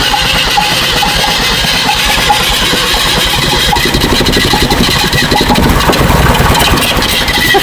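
An abandoned 1965 Datsun 320 pickup, parked for 40 years, being jump-started: a loud, rough engine running close by with a steady rattling, chugging drone throughout, no talk.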